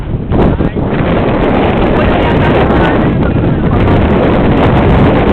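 Strong wind at Mall of Asia by the bay roars steadily and loudly across the microphone, a continuous rumbling buffet with faint voices partly buried under it.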